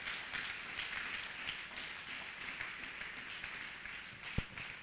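A church congregation applauding during a sermon: a faint, steady wash of clapping that holds evenly throughout, with one sharp knock near the end.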